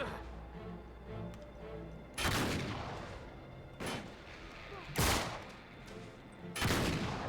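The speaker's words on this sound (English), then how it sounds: "there's a shotgun. I heard a shotgun." Shotgun fire in the Uncharted 3 video game: four loud, sharp blasts spaced about a second or two apart, each with a booming echo over a low game background.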